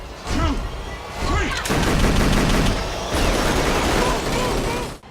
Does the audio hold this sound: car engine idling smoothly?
no